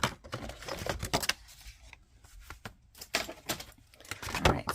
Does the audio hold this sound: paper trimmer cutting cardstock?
yes